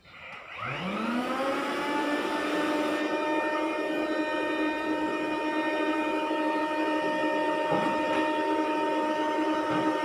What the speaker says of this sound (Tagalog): Mag-vacuum tayo.